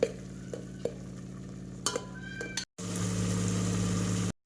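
Steady sizzling of chicken-curry masala frying in a pan on a low flame, with occasional scraping stirs and a brief cut before the sizzle resumes louder.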